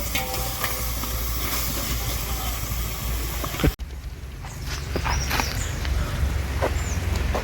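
Masala for chicken biryani is scooped from a pan for the first layer, with steady stirring and scraping over a constant background hiss that breaks off partway, then continues more faintly with scattered scraping sounds.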